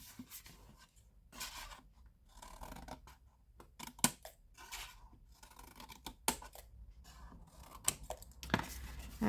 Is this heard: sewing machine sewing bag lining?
no